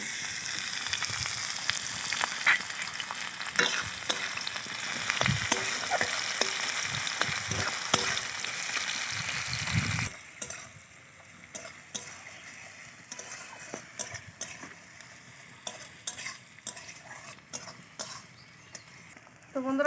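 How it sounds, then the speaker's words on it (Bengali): Bay leaf and chopped onion frying in hot oil, a steady loud sizzle with stirring clatter that quietens partway through, for a village-style green jackfruit curry. "তেলের মধ্যে ফোড়নের জন্য আমি দিয়ে দিলাম একটা তেজপাতা, দিয়ে দেবো পেঁয়াজ কুচি"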